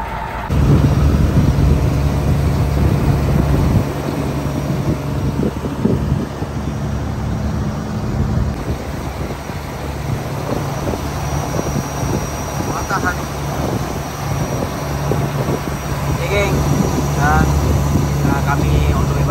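A squid-fishing boat engine drones off Chendering, Terengganu. Its low, steady hum runs continuously for the whole stretch while people talk over it.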